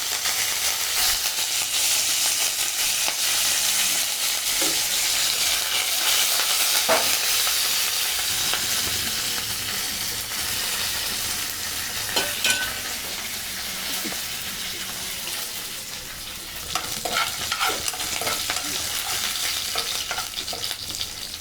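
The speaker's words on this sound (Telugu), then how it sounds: "తాలింపు చక్కగా వేగింది" Dried red chillies, cumin seeds and fresh curry leaves crackle and sizzle in hot oil for a Telugu ridge gourd yogurt chutney tempering, a steady dense frying hiss with scattered pops and stirring, no talk.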